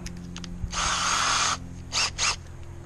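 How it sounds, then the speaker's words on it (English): Power drill boring a hole for a bolt in a lawn mower's can and fender, with one long whirring run followed by two short bursts of the motor in a quiet workshop. "Let's drill us a hole and bolt this thing on here."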